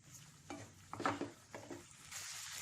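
A spoon stirs tomato ketchup and red chili sauce into fried potatoes for aloo 65, giving soft, quiet scraping and mixing strokes with a faint sizzle from the pan.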